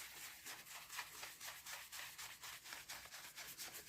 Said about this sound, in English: Get some more, rub it in, pick it up, and circles.